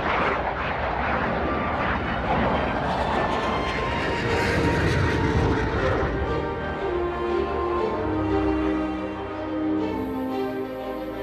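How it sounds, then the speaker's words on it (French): A Dassault combat drone flies in formation with a Rafale and a Falcon 7X, and a loud, steady jet roar holds for the whole stretch before easing slightly near the end. "c'est un drone de combat qui vole en formation"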